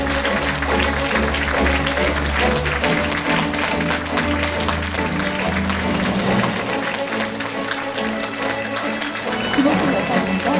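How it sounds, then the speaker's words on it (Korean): Audience applause at a book launch event for a Chungbuk provincial governor, a steady wash of clapping with crowd noise and background music beneath it, with people talking throughout. "여러분 큰 박수 부탁드리겠습니다."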